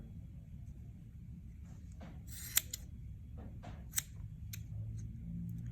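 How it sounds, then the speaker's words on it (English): Scissors snipping through yarn pom-pom loops, a few quiet, separate crisp cuts close by over a soft background rumble, with no talking. "And then you'll snip through the pom-pom loops here."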